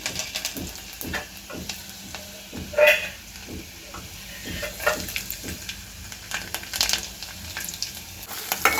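Cumin, mustard seeds and garlic sizzle and crackle in hot oil for a Gujarati ringan no olo, with a steady fry broken by repeated stirring taps and scrapes in the pan, close and moderately loud.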